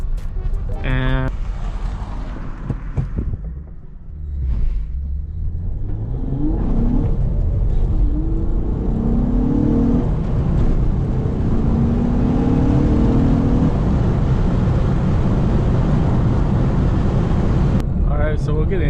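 A car with a J-series engine fitted with an intake manifold spacer pulls hard under acceleration, its engine note rising into a loud, sustained drone, with a voice briefly audible early on.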